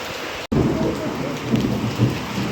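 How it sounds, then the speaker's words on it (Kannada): Rain falling steadily in a village during a thunderstorm. A loud, continuous wash of rain runs under low rolling thunder, which swells briefly near the end. "ಗುಡುಗು ಏನು ಬರೈತೆ ನೋಡ್ರಿ."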